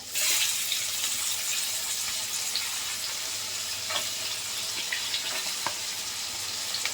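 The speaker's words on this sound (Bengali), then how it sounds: "এবার পেঁয়াজ ফোড়ন দিয়ে দেবো।" Onion hits hot oil in a wok and fries with a steady dense sizzle and scattered pops, a strong burst right at the start, then an even crackling hiss, close up with no talk.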